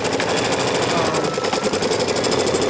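An embroidery sewing machine stitches out a free-standing lace design with a fast, steady, mechanical needle rhythm, loud and close, running continuously without pause.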